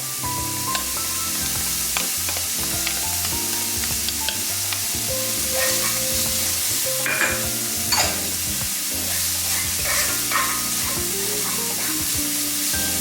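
Garlic sizzling in half a stick of unsalted butter in a pan, a close, steady crackling fry with scattered pops and spatula scrapes throughout, no one speaking.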